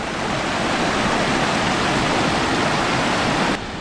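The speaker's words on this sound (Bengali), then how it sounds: "এখান দিয়ে জল বয়ে যাচ্ছে" Cold mountain stream on the Pindari Glacier trek rushing past, a steady, loud broadband roar of flowing water that never lets up, with no voices.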